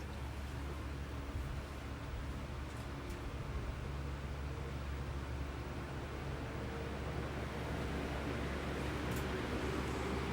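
Lasko box fan (model B20310, with a weak capacitor) running on speed 1, giving a steady, continuous motor hum and whine with broadband airflow noise, even and close throughout with no talking.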